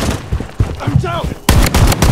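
Video game gunfire, several sharp bursts of shots that come hard and close in the second half, after a stretch of softer game noise with a brief voice-like sound.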